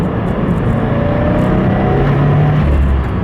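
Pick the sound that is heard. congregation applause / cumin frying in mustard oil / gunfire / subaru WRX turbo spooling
subaru WRX turbo spooling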